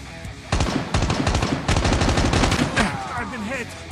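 Rapid bursts of automatic gunfire in Call of Duty Mobile, close and loud, with repeated sharp shots in quick clusters and short gaps between bursts.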